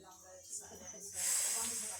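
A faint rattlesnake hiss in a pet store swells into a sustained breathy rush as it eats a chicken, with quiet voices talking around it.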